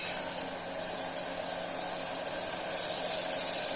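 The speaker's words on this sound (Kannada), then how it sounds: "ಟೊಮೊಟೊ ಸ್ವಲ್ಪ ಫ್ರೈ ಆದ ನಂತರ ತರಕಾರಿ ಹಾಕೋಣ ಸ್ವಲ್ಪ ಫ್ರೈ ಆಗಲಿ" Tomatoes fry in a pan for a vegetable pulao, giving a steady, even sizzle with a broad hiss that holds at a moderate level throughout and no voices over it.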